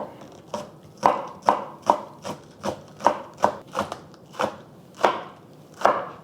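Knife chopping green onion stalks on a cutting board: a dozen crisp, close, evenly spaced thuds at a steady moderate pace, with no talking.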